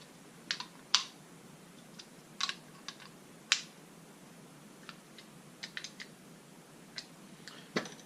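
A 12mm wrench snugs a bolt on a Kubota BX23S compact tractor, giving sparse, sharp metallic clicks and ticks scattered irregularly at close range with quiet gaps between them.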